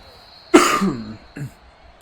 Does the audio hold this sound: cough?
yes